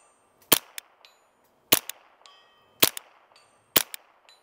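Rifle fire from a JP15-22 trainer at targets 100 yards away: four sharp, evenly spaced reports, each followed by a brief metallic ping, with silence between and no talk.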